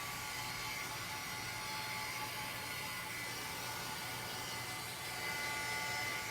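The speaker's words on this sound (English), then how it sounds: "I'm always aware when my heat gun wavers a little bit and it's really hot like this" A heat gun blows hot air across a mixed media art board in a constant, even whoosh of airflow, heard on its own at moderate volume without pauses.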